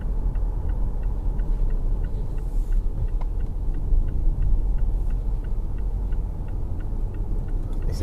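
Mitsubishi Evo X running on E85 cruising along a motorway, heard from inside as a steady low engine and road-noise rumble with a faint regular ticking throughout.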